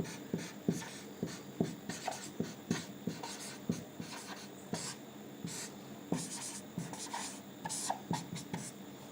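Numbers are written in ascending order with a pen on paper, a steady close scratching of short strokes and taps repeating rhythmically throughout, with no one talking.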